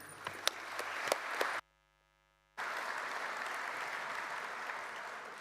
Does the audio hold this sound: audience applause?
yes